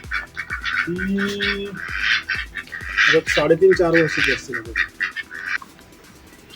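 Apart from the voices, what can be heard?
ducks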